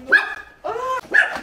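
Two dogs bark in three short, close, loud bursts separated by brief gaps, with no one speaking over them.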